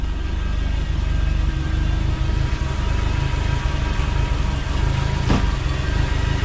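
Stock Honda K24A engine swapped into a Toyota MR2, idling with a steady, loud, low rumble close by, one brief sharper transient midway.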